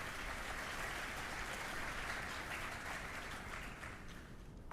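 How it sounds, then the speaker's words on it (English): Sustained applause from a sizable crowd at a Memorial Day balloon rally in Phoenix, Arizona, dense and steady, thinning slightly toward the end. "A round of applause, please, for all the folks at the Advocate"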